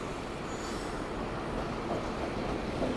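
A train runs through the loop line at Bhimavaram station on the Howrah–Chennai main line, a steady nearby rumble of wagons and rolling wheels with a faint squeal, sustained throughout and no voices.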